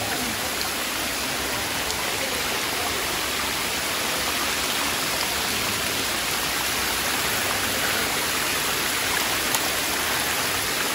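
A waterfall in the hills of Bandarban rushes in a dense, steady roar of falling water that fills every moment, loud and close, with no pause or change.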